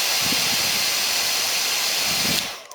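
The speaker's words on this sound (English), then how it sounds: "That's the sound of it. It's like a blow dryer," A terahertz wand gives a steady airy hum with a broad hiss, like a blow dryer running close by, cutting off near the end.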